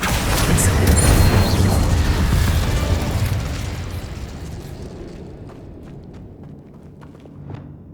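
Fiery Confringo spell blasts in Hogwarts Legacy go off as a loud, dense explosion that roars for several seconds before fading into scattered small crackling pops and debris.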